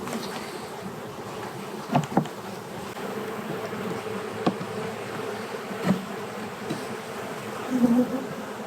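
Steady droning buzz of many clustered honey bees around a hive in a cold climate, continuous and close, with a few soft knocks and bumps scattered through.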